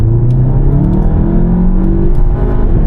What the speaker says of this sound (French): On va se retrouver au volant du 7 GTI reprogrammé.